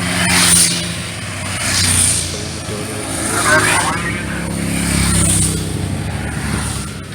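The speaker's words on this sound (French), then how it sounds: "Première voiture." The lead car of a cycling race climbs the Col de Grosse-Pierre mountain pass, its engine note swelling and fading in repeated waves while people talk nearby.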